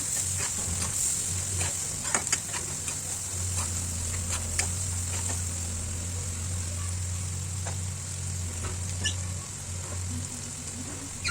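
Masala for egg biryani fries in a pan as it is stirred after the lid comes off, a steady hissing sizzle with a low hum beneath it and occasional scraping ticks, continuous and close.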